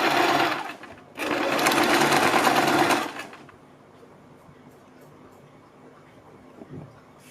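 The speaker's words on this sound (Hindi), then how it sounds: "इसके बाद हम इस पट्टी को अंदर की साइड को फोल्ड करते हुए इसके ऊपर एक सिलाई लगाएंगे" A sewing machine stitches along a folded fabric strip for a kurti neckline, a brief whirring run, a short pause, then a longer steady burst of close rapid stitching before it stops into quiet room noise.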